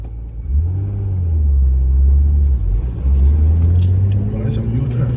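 A right-hand-drive Nissan Skyline GT-R R33 engine rumbles close and loud, a deep steady drone that dips briefly near the middle before swelling again, with faint voices talking over it.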